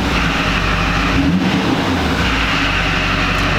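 A Duramax diesel pickup truck engine, troubled by a glow plug fault, runs under throttle with a steady, loud, low rumble that holds fairly constant.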